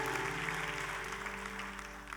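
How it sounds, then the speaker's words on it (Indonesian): Church congregation applauding during a sermon, a dense, continuous clatter of clapping that fades slightly over two seconds, with a sustained organ or keyboard chord beneath. "Tepuk tangan buat Raja di atas segala raja."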